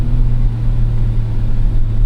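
A Ford Ranger Raptor's V6 engine runs with its exhaust valve open, a steady, loud, deep rumble with a strong low drone that holds evenly from start to finish, close by and with no talk over it.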